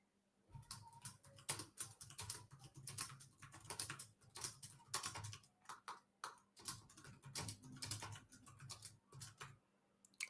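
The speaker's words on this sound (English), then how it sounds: "I'm just typing a poll up, a little survey in the chat." Typing on a computer keyboard in a quiet room, with steady, soft clicking keystrokes in quick irregular bursts and brief pauses, faint and close.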